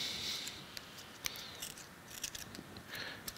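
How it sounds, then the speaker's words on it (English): A razor blade trims the edges of masking material on a Wilton 800S 8-inch bullet machinist vise during restoration, giving a quiet series of faint, crisp scraping slices with small ticks, close up and alone. "I'll take a razor blade and trim these edges up"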